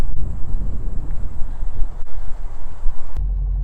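Exhaust rumble from a 1981 Corvette engine fitted with an H-pipe exhaust kit, a steady low drone with wind buffeting the microphone, then a quieter, deeper idle tone in the final half second.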